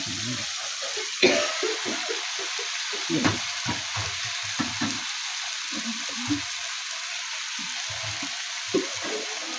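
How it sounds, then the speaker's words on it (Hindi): Phagwari fig leaf greens for Kashmiri kadhi hit a hot pan and sizzle, a steady frying hiss with scattered stirring scrapes and soft clicks throughout, close and moderately quiet. "अब मैं ये साग डालने लगी हूँ फगवाड़ी का"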